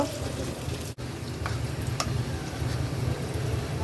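Bhut sizzles and fries steadily in a pan, a dense continuous crackle with a few faint ticks of utensils, close and moderately loud, with no talking over it.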